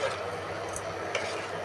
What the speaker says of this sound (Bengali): এখন মাছগুলো দিয়ে একবারে ভালো করে কষিয়ে নিব